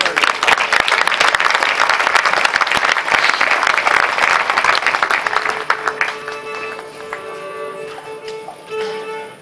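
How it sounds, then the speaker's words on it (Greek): An audience claps at an honorary evening for the maestro Leonidas Klados in Platania, Amari. The loud, dense applause fills the first several seconds, then thins and fades while sustained tones rise beneath it. "Άλλο ένα χειροκρότημα."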